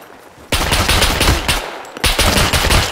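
Two long bursts of rapid automatic gunfire in the video game SCUM, loud and close, with a short pause between them and a quieter stretch at the start.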